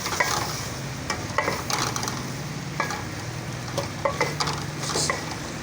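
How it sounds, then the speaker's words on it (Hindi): Spices for chana rice frying in a pot, with a continuous soft sizzle broken by repeated scraping and clinking strokes of a spoon as it stirs, close and moderately quiet. "ये देखो कितना प्यारा भूनना है।"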